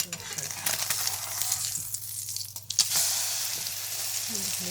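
Slices of pain perdu fry in a pan on a hob turned to its highest setting, giving a steady close sizzle throughout, with a few brief scraping clicks as a spatula turns them partway through.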